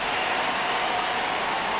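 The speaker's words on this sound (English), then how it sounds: "Crowd locked in right now." A stadium crowd roars steadily in the baseball video game Diamond Dynasty during a tense ninth inning, a dense, even wash of cheering and applause with no break.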